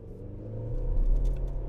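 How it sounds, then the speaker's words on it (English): A 2024 GMC Canyon Elevation pickup accelerating hard from a standstill toward 60 mph, its engine a steady low rumble that swells in loudness through the run, heard from inside with no talking. "The acceleration is just so car-like on this."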